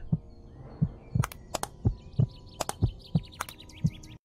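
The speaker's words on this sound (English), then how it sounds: "Why is my heart beating?" A slow, regular heartbeat thuds about once every 0.7 seconds in the Five Nights at Treasure Island game, with sharp clicks and faint chirpy tones scattered on top.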